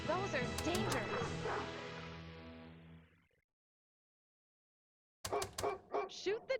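Dog barks and yips from the Junk Yard pinball game in Pinball FX3, a burst of sharp barking that fades out, then after a short silence more barks alongside talking voices.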